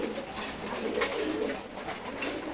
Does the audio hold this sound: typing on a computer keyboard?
no